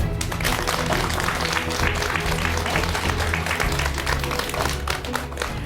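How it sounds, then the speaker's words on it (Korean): Audience applause greets a mentor, a professor of Korean mental science, walking onto a talk-show stage; dense, steady clapping fills the whole stretch at full loudness, with music or low tones underneath. "큰 박수 부탁드립니다"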